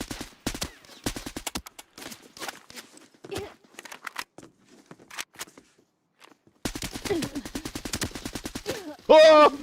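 Rapid bursts of automatic gunfire in a shooter video game, sharp repeated shots in short volleys separated by brief pauses, with a louder final burst and a player talking over it.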